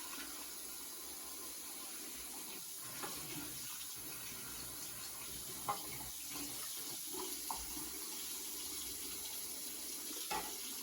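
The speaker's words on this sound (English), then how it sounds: "You want to make sure you rinse this one really good here" Water runs steadily from a faucet while a Navage nasal care device is rinsed under it, with a continuous hiss of the stream and a few soft splashes and knocks as the device is moved. No one speaks.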